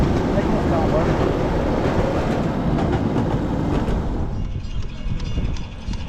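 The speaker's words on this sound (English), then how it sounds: "As the last train pulls into the rail yard" A train pulling into a rail yard rumbles and rattles steadily nearby, a dense roar that fades and thins toward the end as it slows.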